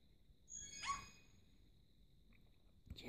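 A puppy in the Nintendogs video game gives a short yip followed by a faint whimper, a brief bright burst in otherwise quiet game audio, with no talk.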